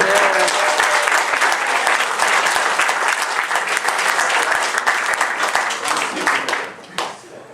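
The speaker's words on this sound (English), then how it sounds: "Give them a round of applause." Enthusiastic applause from a game show audience at a furry convention, steady and loud for several seconds before tapering off into a few final claps.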